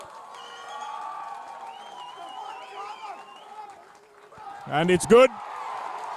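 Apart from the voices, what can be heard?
home crowd cheering wildly at schools rugby match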